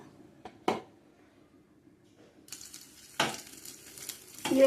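Green chillies dropped into hot oil and ghee, bursts of sizzling hiss with brief clinks of a pan and utensil, close, intermittent and rising toward the end.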